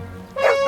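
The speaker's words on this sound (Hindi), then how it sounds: "कुत्ता क्यों भौंक रहा है?" A dog in a Hindi comedy film gives a short, sharp yelping bark that cuts in halfway through after a low rumble, close and fairly loud.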